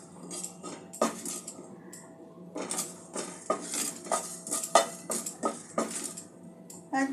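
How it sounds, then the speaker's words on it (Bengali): A spoon scrapes and clatters against a pan while a spice mixture is stirred, irregular metallic knocks and scraping strokes in quick bursts, close and clear, with no voices. "এক দু মিনিট একটু নাড়াচাড়া করে নিয়ে আমি মশলাটা নামিয়ে নেব।"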